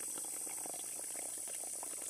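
Water gushing under pressure from a hydraulic ram pump, a constant hissing, bubbling rush with no pauses, moderately loud and close.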